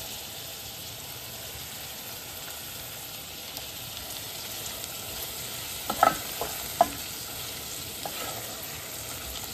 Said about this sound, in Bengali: এরপরে সিম্পলভাবে আমি ভাজিটা করলাম